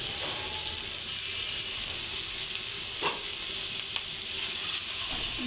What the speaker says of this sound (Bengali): এবার ভালো করে কষাই নেব